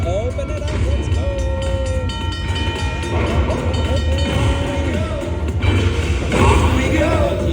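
Train sounds from the Railroad Riches slot video game play loudly and continuously: a rolling rail rumble with tonal horn or whistle blasts over game music, and no voices.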